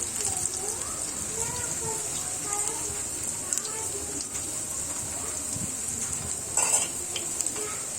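Garelu, lentil fritters, frying in hot oil, a steady close sizzle and bubbling that runs throughout with a few faint clinks, while a voice talks over it.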